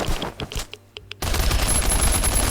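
Rapid gunfire in the survival shooter Last Island of Survival: a few spaced shots at first, then a sudden dense, loud burst of continuous automatic fire that runs to the end, close and unbroken by talk.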